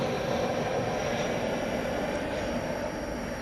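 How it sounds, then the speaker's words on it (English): American Airlines Airbus A321 arriving from LAX at DFW Airport at night, a steady, loud broadband jet roar that holds at an even level throughout with no voices. "It's an Airbus A321, flight 2732, American Airlines."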